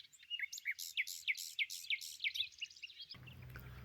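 Morning birdsong outdoors in nature, a bright repeated chirping phrase sung in quick succession for about three seconds, fairly close and clear, before a low rumble of background noise takes over.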